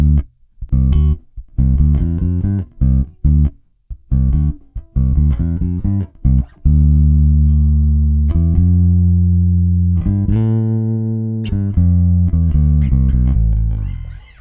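Active jazz bass guitar played with a bass boost, a run of deep, punchy plucked notes that ends on a long ringing note and then a few more, loud and alone with no talking.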